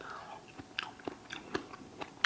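Biting into and chewing peeled mangosteen fruit, several soft wet crunches and squelches close by at an uneven pace.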